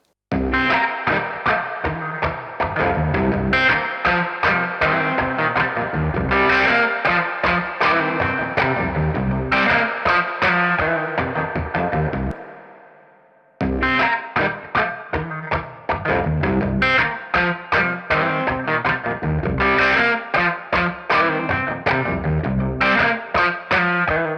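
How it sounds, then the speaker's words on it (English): Electric guitar played through a Strymon Golden Reverberator spring reverb pedal, distorted chords and riffs ringing loud and close, one passage ending in a long reverb tail that fades before playing resumes, no talk. "so we can hear a bit more of the character of the reverb, starting with the Golden Reverberator"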